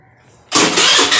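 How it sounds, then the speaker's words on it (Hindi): A Honda Grazia BS4 scooter with an engine sound problem starts up nearby: a quiet moment, then the engine catches abruptly and settles into a loud, steady running rattle. "गाड़ी को स्टार्ट मारेंगे"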